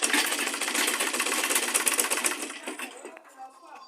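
A sewing machine stitches fabric for a tote bag in a fast, steady run of needle clatter that slows and stops near the end, close and clear.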